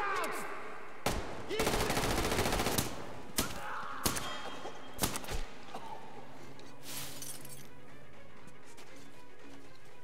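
Video game gunfire in bursts, with loud close shots and short volleys separated by quieter gaps, over a low background game ambience.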